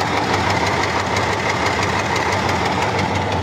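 A motor engine running roughly, a dense continuous rattling, knocking drone that holds steady and loud with no voices.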